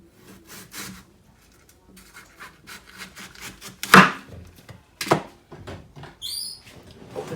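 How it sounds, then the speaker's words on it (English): A knife slicing the tops off a watermelon, with scraping, rubbing cuts and two sharp cracking chops partway through, fairly close and without talk. "Okay, so this is how I cut my watermelons."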